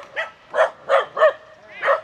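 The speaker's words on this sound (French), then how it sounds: "Ah, le chien il vient." A dog near the beach houses at Kuta gives five short, sharp barks in a quick uneven run, loud and close, with no voices over them.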